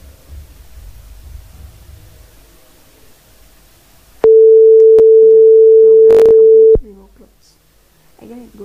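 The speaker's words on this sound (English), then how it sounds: "after finishing washing, it will give us a buzzer." The buzzer of a simulated automatic washing machine sounds as a single loud, steady electronic tone lasting about two and a half seconds, set between stretches of quiet background noise and soft talk.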